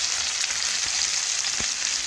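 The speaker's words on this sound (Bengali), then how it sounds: "একটু ভেজে নেব নাড়াচাড়া করে" Grated ginger and chopped tomato fry loudly in a pan after cumin, a dense continuous sizzle with a couple of stirring scrapes, close and without speech.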